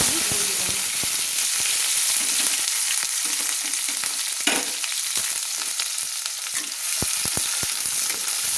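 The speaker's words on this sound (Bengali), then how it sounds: "পেঁয়াজগুলো একটু ভেজে নেব, হালকা হালকা করে আমি ভেজে নেব" Chopped onions frying in hot oil with black cumin seeds for a fish and cabbage mash, a loud, steady sizzle with scattered clicks and scrapes of stirring throughout.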